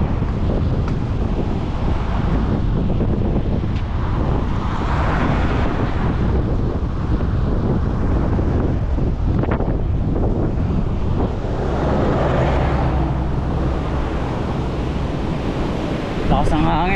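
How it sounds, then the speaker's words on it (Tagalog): Strong wind roars continuously across an outdoor microphone, loud and buffeting throughout with gusting surges, while faint voices sit beneath it. "Lakas ng hangin"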